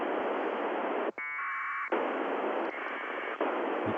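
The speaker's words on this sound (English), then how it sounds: "So this was what it sounds like, APRS packets coming over the air." Over-the-air APRS packet radio: steady loud hiss of static broken by a short warbling data burst of alternating tones, then static resumes with a fainter tonal stretch later.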